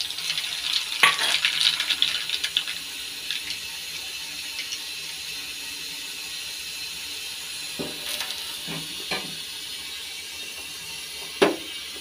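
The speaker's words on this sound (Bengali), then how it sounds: "এই পনিরের জন্য কালো জিরে হাতার মধ্যে করে তেলে দিচ্ছি" Black cumin seeds sizzle in hot oil held in a ladle, with a soft steady crackle and a few sharp clinks and taps of the ladle against metal. No one speaks.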